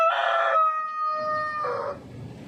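A rooster crows among hens on a windy autumn farmyard, a clear two-part tonal call close by, followed by softer low clucking and rustling in the background.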